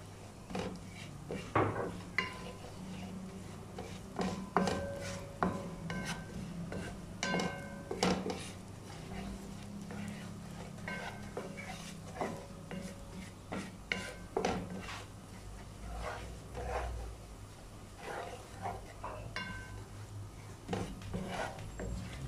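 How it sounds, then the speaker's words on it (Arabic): Cashews and pine nuts being fried and stirred in a pan, with repeated scraping clinks of a utensil against the metal over a soft background sizzle, close and irregular with no speech. "بنقلبهم شوي بس بنضل نحرك فيهم لانه قوام بيحترق اذا شلنا ايدنا عنه"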